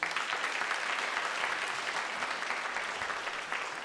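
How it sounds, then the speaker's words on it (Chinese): A church congregation claps to welcome a pastor at a Sunday worship service, a steady, dense wash of applause from many hands that stays even throughout, with no voices standing out. "我们拍手来欢迎陈聪辉牧师"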